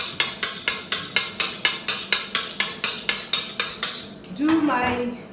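A knife chopping onions into thin strips on a board: about sixteen evenly spaced, crisp close strikes in a steady rhythm, then the chopping stops and a short vocal sound follows.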